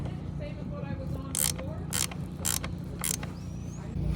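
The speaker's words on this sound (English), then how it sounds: "More butyl tape has been squeezed out as we continue to tighten the bolt" A bolt on a boat's mast plate is tightened with a wrench, giving four short creaking or ratcheting bursts at roughly even intervals over a low background hum, quiet and close.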